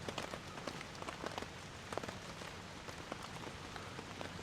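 Heavy rain drums on a blue Home Depot tarp at a campsite during a large rainstorm, a dense, steady patter with scattered sharper drop hits, fairly faint and continuous.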